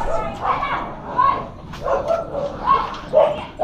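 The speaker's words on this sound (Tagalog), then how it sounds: "Nag-away yung mga aso niya." Several dogs fight and bark together nearby, with a rapid tangle of yelps, yips, growls and whimpers in irregular bursts, loud and chaotic, with people talking over them.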